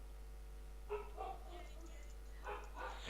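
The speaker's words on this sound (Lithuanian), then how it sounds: "šuns lojimas" A dog barks in the background during a Hunger Games gaming session, a few short yips and barks in two brief bursts, fairly faint under steady room hum.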